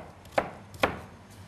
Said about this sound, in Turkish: Tekrardan soğanımızı da hemen iri bir şekilde doğrayacağız.